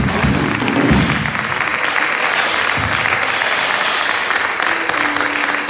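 A church congregation claps steadily during a Sunday worship service, a dense sustained burst of applause heard fairly close throughout.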